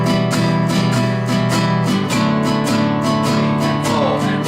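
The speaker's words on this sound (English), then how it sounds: "You could strum up and down for the whole lot." Acoustic guitar strummed steadily up and down through the chords, close and loud, with even rhythmic strokes and no talking.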